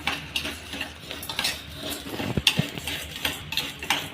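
Vermicelli is roasted in ghee in a pan, with a metal spoon scraping and clinking against it in a steady irregular rhythm over a faint sizzle, close up, with no talk.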